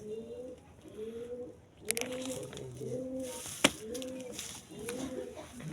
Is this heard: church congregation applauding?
no